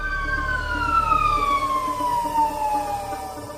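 Ambulance sirens wail during a fire emergency in Hermosillo, Mexico, a loud sustained descending siren tone over a rumbling vehicle engine, steady throughout.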